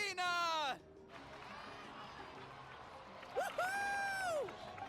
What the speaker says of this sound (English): give a huge round of applause to our brave young warrior, Kachina!